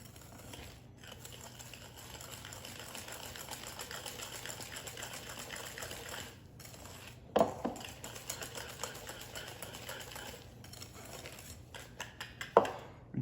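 A whisk works 20 g of flour gently into a pastry cream mixture, giving a soft, steady scraping and tapping against the bowl with a few sharper clinks near the end.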